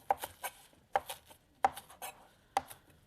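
A knife chops green onions for oyster kimchi on a cutting board, four sharp, crisp chops spaced unevenly and close by.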